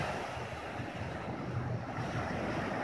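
Calm sea at Arkhipo-Osipovka at sunset, with a soft continuous surf wash lapping close by under steady wind buffeting the microphone.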